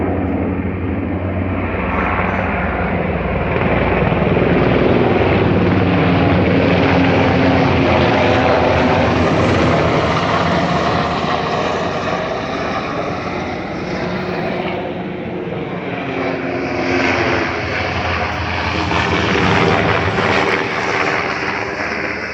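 Three Black Hawk military helicopters fly low overhead and circle back, a loud continuous rumbling engine and rotor roar that swells and eases slightly over about twenty seconds, with no speech.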